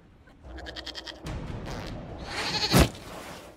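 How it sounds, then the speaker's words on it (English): A goat bleats in Dragon Age: Inquisition, a short wavering run of bleats followed by a louder bleat, moderately close against quiet game ambience. "we discovered this man attacking the building with a goat"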